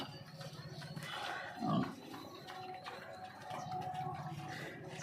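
Pigs grunting and snuffling nearby, with one louder low grunt midway over a steady background hum.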